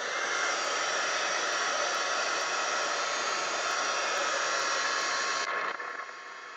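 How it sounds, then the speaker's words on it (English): A heat gun blows a steady, loud, close whooshing roar over mixed media art, running continuously before switching off near the end. "Heat gun."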